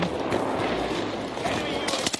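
Precision airstrike in a shooter video game, a dense, continuous rumble of overlapping explosions and blasts, loud and sustained, with a few sharper cracks near the end.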